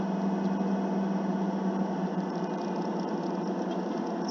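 A BMW E30 with an M20 engine, converted to MaxxECU sequential injection and ignition, idles steadily throughout with a constant low hum and a faint high whine, no talk over it.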